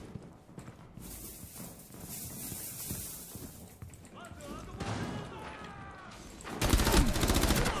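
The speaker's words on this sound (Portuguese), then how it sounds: "eu tô tomando tiro aqui nem sei da onde" Rapid gunfire bursts from the video game Rainbow Six Siege in Terrorist Hunt mode crackle through the mix, swelling into a loud, dense volley near the end, with a player talking over the action.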